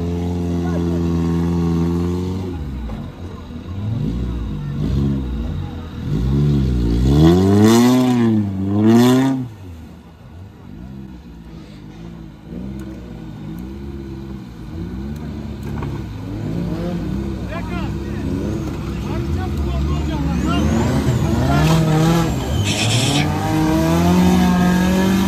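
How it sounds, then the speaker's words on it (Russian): An off-road trophy sprint car revs its engine hard while driving in at a dry, hot racing stage, with rising and falling revs and wheel noise, loud and fairly close, with people talking over it. "Заезжает автомобиль."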